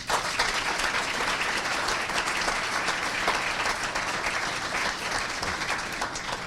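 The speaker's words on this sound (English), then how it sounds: "please, a great applause to our city leaders" Crowd at a State of the City event applauding city leaders, loud, sustained, dense clapping that fills the room evenly for several seconds without letup.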